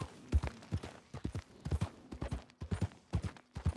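A horse's hooves clip-clop at a gallop in the Red Dead Redemption 2 Wild West game, a fairly quiet rhythmic run of paired beats that continues throughout.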